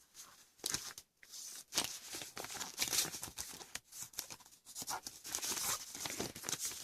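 Paper folded by hand into a tray envelope, with soft crinkling, rustling and creasing sounds that come and go in a continuous close, quiet stream.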